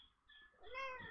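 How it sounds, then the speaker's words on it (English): A house cat meows twice, a short quiet mew followed by a longer, louder rising-and-falling meow, close by indoors. "Meow."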